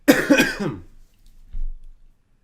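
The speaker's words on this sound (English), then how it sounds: "You're coughing. I know I'm coughing." Two quick coughs close together, followed by a fainter low throat-clearing rumble, then quiet.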